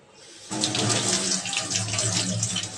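Tap water gushes into a sink as meat is washed, starting abruptly and running loud and steady close by.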